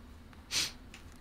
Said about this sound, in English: from time to time you hear her breathe through her nose